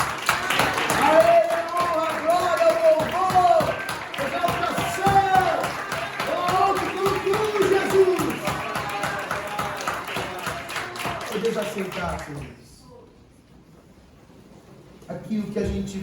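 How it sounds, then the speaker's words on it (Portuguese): Church audience applauding the Lord during a service, rhythmic clapping running under singing or voices for most of the stretch before fading to near silence, then resuming faintly. "vamos aplaudir ao Senhor novamente"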